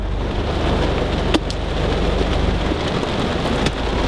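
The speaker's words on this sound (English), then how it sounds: "then it started pouring rain" Heavy pouring rain at a Southern California beach, a steady dense wash of rain hitting surfaces that holds at an even level throughout, with a couple of faint sharp clicks and no speech.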